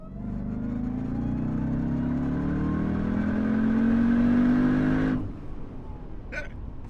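A 2018-era Jeep Trackhawk tuned to 825 hp pulls hard through fourth gear, its engine drone climbing steadily in pitch for about five seconds before cutting off sharply on the shift, loud and close from inside the car.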